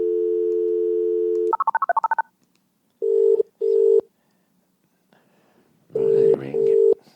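A phone call being placed: a steady dial tone, a quick burst of keypad dialing tones, then two separated ringback rings, the last overlapping with low talk in the room.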